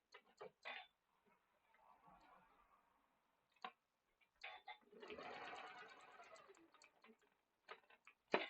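A sewing machine stitching a quilt block seam, quiet bursts of rapid mechanical ticking and whirring with clicks between runs, the longest run in the middle, faint and close.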